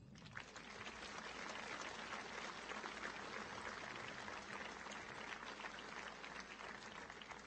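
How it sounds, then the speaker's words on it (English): Warm crowd applause for the team at the opening ceremony of the 2018 WBSC Junior Men's Softball World Championship in Prince Albert, Saskatchewan, a dense, sustained clapping that swells quickly and holds steady for several seconds. "Please join me in giving our team a warm applause"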